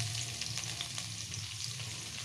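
Finely chopped cabbage fries for egg fried rice, a quiet steady sizzle with soft stirring scrapes over a low hum, brief and without speech.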